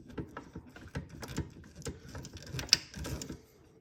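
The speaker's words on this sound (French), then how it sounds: "Ça y est, ça visse." A small screw is driven into a Knight Rider KITT model kit, producing quiet, close, irregular plastic clicks and light ratcheting taps.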